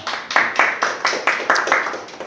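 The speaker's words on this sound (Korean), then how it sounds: "박수 한번 주세요." An audience at a sales talk gives a short round of applause, heard as steady, rhythmic group claps, close and fairly loud, with no speech over them.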